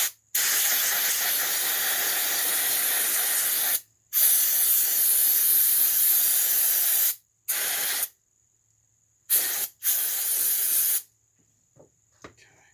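Aerosol brake parts cleaner hissing onto a Holley carburetor from a 1979 360 Mopar engine, loud and close in long sustained bursts with brief pauses, then several shorter bursts and faint handling noises at the end.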